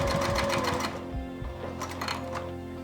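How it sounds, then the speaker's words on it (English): Sewing machine stitching through layers of a crossbody bag, a fast rhythmic mechanical chatter for about a second, then a short pause and a few slower stitches. "I know that the machine is pushing the top layer down, so I'll actually sew from the same side, from the same direction, but from the other side"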